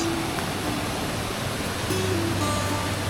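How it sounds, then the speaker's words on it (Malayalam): A flowing forest stream over rocks at Illikkal Kallu in Kottayam rushes as a steady, even wash of water, close and constant with no talk. "അവസാനം ആ അരുവി കണ്ടുപിടിച്ചു ഗൈസ്"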